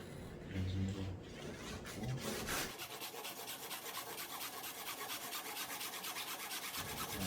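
A hand saw draws rapid, steady rasping strokes through a thin wooden lattice bar of a traditional Korean flower-pattern door, cutting at a 30-degree angle, close and continuous after a brief opening of talk.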